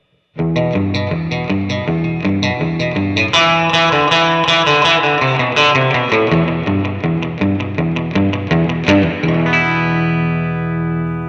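Electric guitar through a Fender Mustang GT amp with a Twin Reverb model and '63 spring reverb plays a steady picked riff, loud and close, drenched in springy reverb that rings out briefly at the end.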